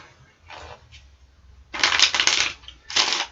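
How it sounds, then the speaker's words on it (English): A deck of playing cards is shuffled for a card trick: two close, crisp riffling bursts, one long and one short, follow a few faint rustles, with no talking. "You got to give the deck a perfect shuffle."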